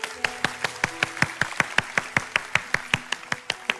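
Church congregation at a Sunday worship service clapping together in a steady, even rhythm, about five claps per second, loud and close, with no voices over it.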